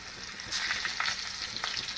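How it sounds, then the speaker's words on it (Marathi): Large green chilies stuffed with salt frying in hot oil, a steady crackling sizzle with louder spattering bursts throughout, close and continuous with no talking. "चला आता ही मिरची टाकते मी बघा कशी टाकते मोठ्या मिरच्या आहेत"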